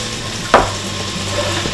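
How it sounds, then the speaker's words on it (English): Dark cherries sautéing in a pan with sugar and cinnamon, a steady close sizzle with two quick scraping stirs or tosses. "And let that saute."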